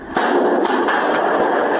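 A rapid burst of gunfire, sharp repeated cracks over a continuous loud noisy wash, sustained for nearly two seconds.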